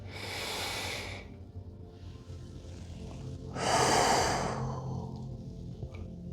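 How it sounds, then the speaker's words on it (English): Two deep, forceful exhales from a breathing exercise, close and breathy, the first a long blown rush and the second a rougher hiss a few seconds later, with quiet room tone between. "Exhale, you're blowing all that tension out in your belly."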